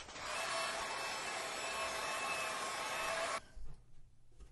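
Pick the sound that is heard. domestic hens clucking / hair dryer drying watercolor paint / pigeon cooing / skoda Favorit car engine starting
hair dryer drying watercolor paint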